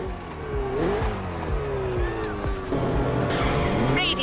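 A Ferrari racing car in The Crew Motorfest squeals its tires and revs through gear shifts in a game race, with loud engine drone and skidding under a commentator's voice.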